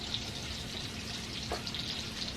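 Salmon frying in a pan while being stirred, with a steady close sizzle throughout and a brief scrape of the utensil midway.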